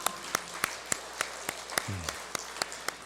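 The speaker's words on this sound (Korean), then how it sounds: "박수 한번 하시죠" Slow, rhythmic clapping at a Sunday church service in Korea, roughly a dozen evenly spaced sharp claps, moderately close and fairly quiet, with a brief low voice or hum partway through.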